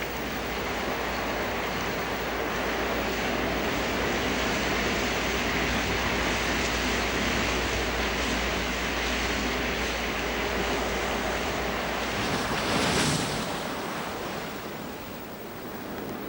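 The harmattan desert wind blows hard off the Sahara onto the Atlantic coast, where ocean waves break: a constant, dense roar of wind and surf with no pauses and a brief gust swelling near the end.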